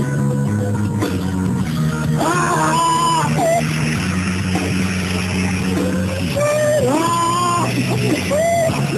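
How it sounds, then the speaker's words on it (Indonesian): A group of people yell together at full volume in an outdoor nature setting at Darajat valley, a long sustained shout with rising and falling pitch over steady background noise and crowd murmur. "Oke, ya tarik nafas paling panjang,"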